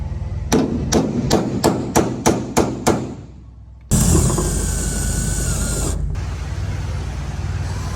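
Riveting on a Sling High Wing aircraft build begins with eight evenly spaced sharp metallic strikes, loud and close. A sudden sustained hiss of air follows and runs to the end.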